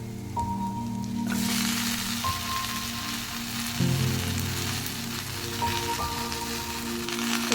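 Chopped Malabar spinach hits hot spices in a pan and fries with a loud, steady sizzle. A few faint utensil taps and clinks sound nearby, and no one speaks.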